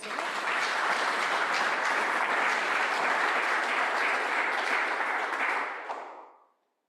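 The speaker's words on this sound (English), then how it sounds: "I think they deserve a round of applause." A room of attendees at a Transparency International New Zealand annual general meeting gives a sustained round of applause, full and even for several seconds before fading out quickly at the end.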